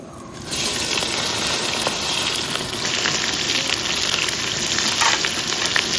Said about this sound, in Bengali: বহুত গরম হয়ে গেছে তেল, দিয়ে দাও পেঁয়াজ।